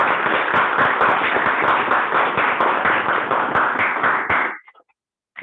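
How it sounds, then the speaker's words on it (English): Applause from a Toastmasters club meeting audience rises as a dense, steady burst of many hands clapping for about four seconds, then stops abruptly, leaving near silence. "So let's clap for him."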